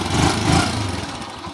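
A secondhand Honda TMX 125 Alpha motorcycle engine runs at a low, steady rev, a loud close rumble that swells briefly and then settles into an even idle.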